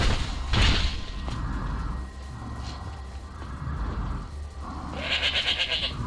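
A goat bleats in the video game Skyrim, with a few wavering cries spread over several seconds among game thumps and a low ambient background, moderately close.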